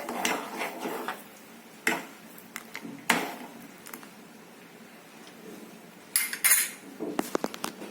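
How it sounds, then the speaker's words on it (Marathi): A metal spoon clinks and scrapes against a pot while stirring hot masala milk with crushed dry fruits and sugar, irregular sharp taps and knocks, close and clear with quiet pauses between. "आणि हे व्यवस्थित हलवून घ्यायचं"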